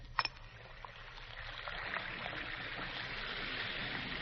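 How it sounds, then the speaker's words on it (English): Two Alka-Seltzer tablets fizz in a glass of water, a faint, steady sparkling hiss with tiny crackles after a brief plop, heard through an old, narrow-band radio recording. "You hear that fizzing, sparkling sound?"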